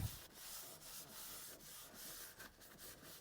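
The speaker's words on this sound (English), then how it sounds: "this kind of smooths things just a little bit, and it also scuffs up the leather to get it ready to retrieve the dye" Leather on a C5 Corvette steering wheel is scuffed by hand with an abrasive pad before dyeing, giving a steady, close, soft rubbing hiss with a few brief strokes and no talk.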